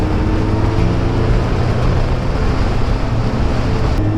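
Kawasaki Ninja motorcycle engine running at full power on a ghat road ride, a loud, steady, continuous drone with heavy low rumble and broadband wind roar, no speech.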